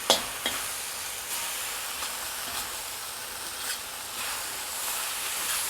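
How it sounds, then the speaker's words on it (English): Spinach and pork stir-fried in a wok for Shanghai noodles give a steady moderate sizzle and hiss, with a spatula tap at the start and light scraping through it. "what you want to do is you want to stir fry this until the spinach wilts"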